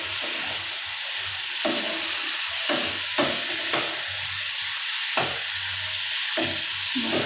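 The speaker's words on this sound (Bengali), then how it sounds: "এর মধ্যে এবার আলু আর সয়াবিনটা দিয়ে ভালোভাবে আরেকটু কষিয়ে নেব" Potatoes and soybean chunks stir-fried with spice paste in a pan, a steady close sizzle with repeated scraping strokes of a spatula at irregular intervals, no talk.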